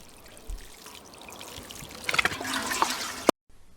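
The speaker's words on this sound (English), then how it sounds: "The last step is to give the plant a good soaking." Water pours and trickles onto soil around a newly planted aquilegia seedling, a soft close splashing stream that rises in the second half and stops abruptly.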